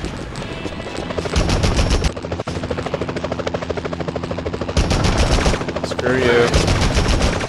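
Machine gun fire from a helicopter in the 2001 Spider-Man video game: sustained rapid bursts roar over a steady rotor drone, with a brief spoken line in the middle.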